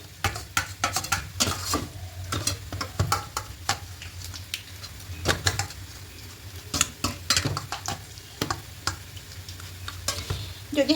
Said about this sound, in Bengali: এবার হালকা করে একটু ভেজে নেব পেঁয়াজের সঙ্গে খুবই অল্প আঁচের মধ্যে করছি এটা খুব ভালো করে মিশিয়ে নেবে